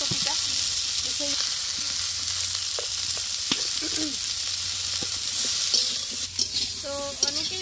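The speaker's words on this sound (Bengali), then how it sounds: "হলুদ দিয়ে ভেজে নেব, যাতে একটা ভাজার গন্ধ বেরোয় ঝোলে যখন দেবো ফুলকপিটা।" Cauliflower frying with turmeric in a pan, giving a continuous close hiss of sizzling oil with occasional stirring clatter and scraping throughout.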